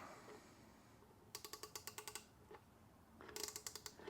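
A Gedore ratchet wrench clicks in two bursts of rapid, evenly spaced ticks, close and crisp against a quiet background.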